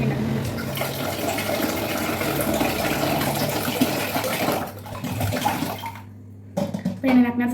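Boiled water pours into a vessel for making sharbat, a steady rushing splash over a noisy background that breaks off into brief knocks and handling sounds near the end.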